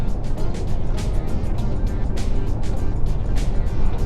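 A 2022 Citroën C5 Aircross hybrid SUV pulls out and accelerates on its own, giving a steady, continuous road and engine rumble with tyre noise from inside the car, unbroken throughout.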